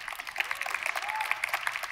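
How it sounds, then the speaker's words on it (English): Audience applause at a startup conference talk, a steady patter of many clapping hands heard from a distance for a couple of seconds. "Oh, salute. Applause to you."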